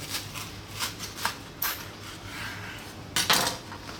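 A knife saws through a toasted sausage, bacon, mustard and cheese sandwich, giving a few short crunchy scrapes and clicks of blade on crust and plate, close up, with a louder burst near the end and no talking.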